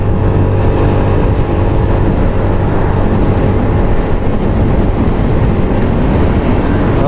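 A 2021 Honda Beat FI scooter engine climbs uphill with a steady, close drone mixed with rushing wind, holding an even level throughout with no talking.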